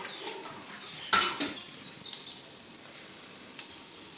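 Ginger and green chillies sautéing in a pan give a soft, steady sizzle, with one sharp clatter of a stirring utensil against the pan near the start.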